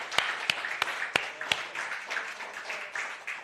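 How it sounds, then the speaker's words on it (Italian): Congregation in a church service clapping in praise, a steady wash of many hands with several sharper, louder claps standing out near the start. "dale un applauso al Signore"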